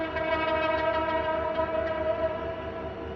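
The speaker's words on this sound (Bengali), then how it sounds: "এখানে দ্রুত গতিতে আসছে আসছে লোকোমোটিভ" A locomotive comes in fast for shunting onto a train and sounds a loud, steady horn. The tone holds without a break through the whole short moment, close by.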